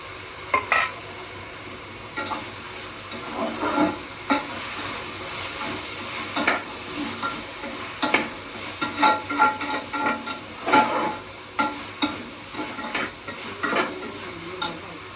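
Tomatoes fry in a pan, a steady sizzle broken by repeated scraping strokes of stirring and occasional clinks against the pan, close and moderately loud, with no talking.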